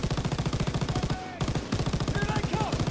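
Rapid machine gun fire in the WW2 D-Day campaign of Call of Duty WW2, a loud fast rhythmic burst of shots with one brief pause partway through.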